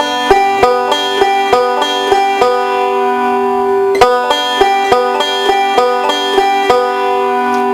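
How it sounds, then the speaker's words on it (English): Plucked strings play a fingerpicked forward roll starting on the second string with the index finger: a steady, bright, ringing stream of notes in a repeating pattern, close and loud with no talking. "So let me start this forward roll with my index finger"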